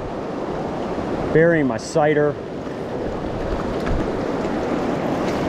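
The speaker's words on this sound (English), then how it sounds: "Just the wind is kicking up" Wind kicks up beside a river in Montana, a steady broadband rush mixed with flowing water, with someone speaking briefly over it.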